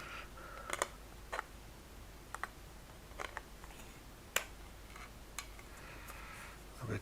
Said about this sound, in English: So it says cut here, I need to cut that off.